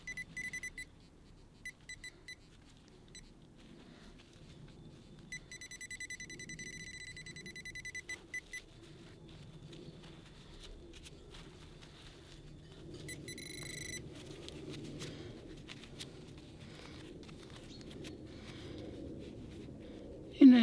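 An XP Deus or Quest metal detector gives bursts of rapid high-pitched beeps over a find, repeating in short clusters against quiet outdoor background noise with faint low voices.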